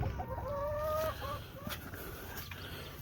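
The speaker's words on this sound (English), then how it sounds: "show you the chickens, make sure everybody's still doing good." Backyard chickens clucking in a coop during a garden check, a short run of soft rhythmic clucks up close in the first second, then quieter scattered fowl sounds over low background noise.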